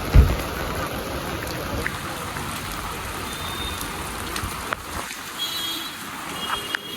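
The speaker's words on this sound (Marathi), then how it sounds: "पाऊस खूप वाढलाय" Heavy rain falls near Raigad, a continuous broad wash of patter and splashing, steady and fairly close, with a sharp knock at the start and a few faint bumps later.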